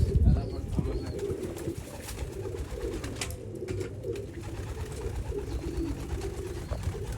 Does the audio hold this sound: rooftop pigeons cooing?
yes